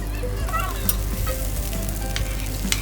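Chopped onions frying in hot oil in a pan while making sambar, a steady close sizzle with a few light clinks of a spoon stirring through it.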